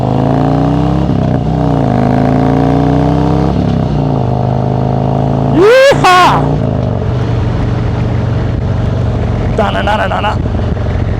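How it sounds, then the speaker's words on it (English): A motorcycle on an 8-hour ride gives a loud, steady engine drone with wind roar, and a brief sharp rev swells near the middle. A faint chirp follows later. "Anytime I'm on the motorcycle, I have a blast."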